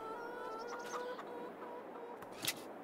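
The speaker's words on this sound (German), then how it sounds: "So, hier haben wir die Hühner." Chickens cluck faintly in the Farming Simulator 22 farming game, a few soft scattered clucks over a steady electronic hum and background ambience.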